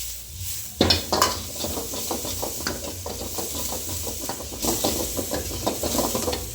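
Bell pepper and capsicum sautéing in a pan with garlic, chili and ginger, giving a steady sizzle with repeated stirring scrapes and light utensil clinks against the pan throughout.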